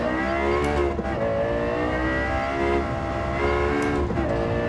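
A Lexus LFA V10 revs hard in Gran Turismo 7, a loud, shrill, harmonic engine wail that climbs and drops repeatedly through quick gear changes, close and continuous with no talk.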